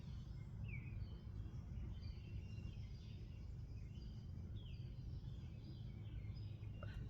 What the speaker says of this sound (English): So sitting here listening to the birds